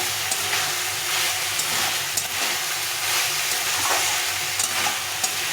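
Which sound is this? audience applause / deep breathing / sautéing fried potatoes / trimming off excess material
sautéing fried potatoes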